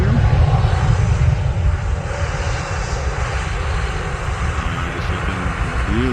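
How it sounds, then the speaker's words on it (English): A Transavia Airbus A320 lands at Amsterdam airport on a sunny day, its engines roaring steadily and loudly with a deep rumble that eases slightly partway through, no talking. "This is the Transavia A320."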